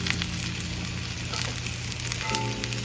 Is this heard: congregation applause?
no